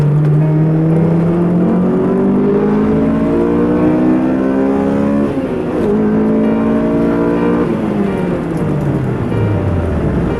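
A 2001 Honda S2000 with a 2-liter four-cylinder accelerates hard, its loud close engine note climbing steadily through the revs, dropping at two gear changes and then rising again with no voices heard.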